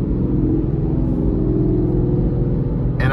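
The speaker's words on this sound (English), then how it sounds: "road noise is minimal" A steady low road rumble and engine drone fills the cabin of a 2024 Buick Envista with a 1.2-liter three-cylinder engine while driving, continuous and fairly loud throughout.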